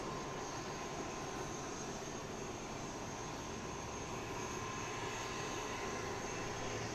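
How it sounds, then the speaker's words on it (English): An ATR turboprop airliner at Christchurch Airport drones steadily from a distance, a continuous broad roar of engines holding an even level throughout. "ATR is on its way. I can hear it right now."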